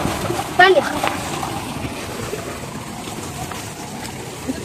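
A brief splash of water while fruit is washed, followed by a low, steady outdoor wash of flowing water and wind.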